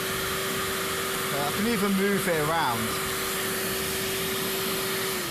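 A broken vacuum cleaner straining over spilled rice gives a steady, thin motor whine with a constant tone, while someone speaks briefly over it.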